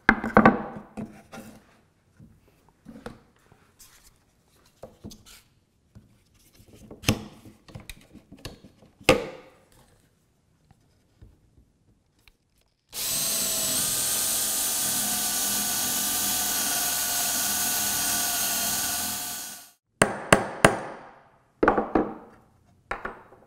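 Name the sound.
drilling and jigsaw cutting wood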